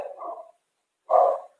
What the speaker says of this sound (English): The dog is getting on my nerves.